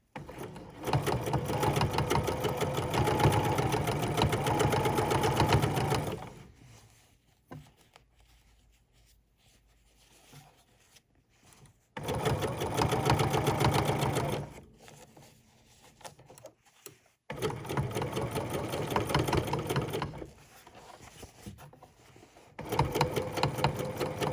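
A sewing machine stitching a jeans hem around the pant leg runs in three long bursts of loud, rapid mechanical whirring, separated by quieter pauses with faint handling sounds.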